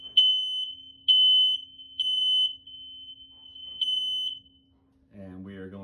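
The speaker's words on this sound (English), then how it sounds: "now going to second smoke detector in the basement, and you'll be able to see that also going off" A basement smoke detector going off in loud, sharp, high-pitched beeps, repeating in a steady rhythm of several chirps, with a voice starting briefly right at the end.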